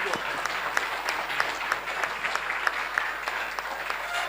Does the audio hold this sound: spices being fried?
no